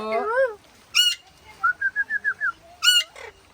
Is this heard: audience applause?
no